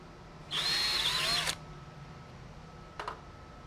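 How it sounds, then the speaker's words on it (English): A single burst of a power drill pre-drilling a hole in a cellular siding panel, whirring for about a second, fairly close, followed by a brief faint click-like rattle; no talking. "I need to pre-drill a hole within the first 12 inches or so toward the bottom of the panel."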